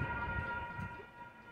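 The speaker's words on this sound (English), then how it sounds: "Here comes train." A train approaching on the rail line at Santa Rosa north, with a steady horn-like tonal drone over low rumbling, continuous and moderately loud, no talk.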